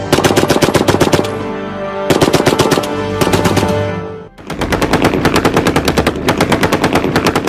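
Bursts of fully automatic machine-gun fire, loud and close, with rapid evenly spaced shots in three sustained volleys separated by brief pauses.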